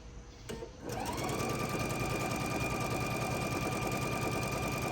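A sewing machine starts up after a brief pause and runs steadily, stitching a Christmas tree table runner with a close, fast, even mechanical whir.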